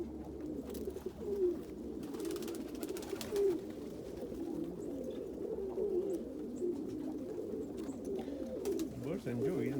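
Grizzly homing pigeons in a fly pen during a snowstorm, cooing softly in low repeated phrases, fairly quiet and overlapping, with faint background noise and no clear talk.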